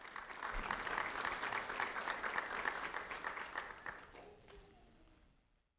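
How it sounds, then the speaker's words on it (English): A room full of people claps for a fourth-grade student being honored by a sheriff's office, a dense, even round of applause that holds steady, then thins out and fades to silence near the end. "a round of applause for Mario Jimenez"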